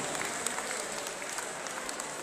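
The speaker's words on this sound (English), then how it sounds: "Can we give him a round of applause," Steady applause from a crowd, a dense even patter of clapping at moderate volume without a break.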